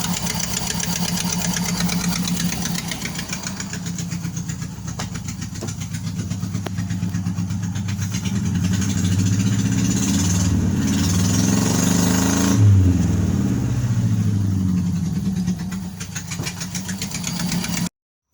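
A 1988 Nissan Sentra with the E16i engine running steadily, a loud, close, rough idle with a constant low throb and a slight rise in revs midway, alone without talk.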